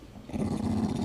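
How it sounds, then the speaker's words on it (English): A dog growls low and continuously, close by, the rumble swelling after a brief quieter start and holding steady to the end. "Can you be a good dog?"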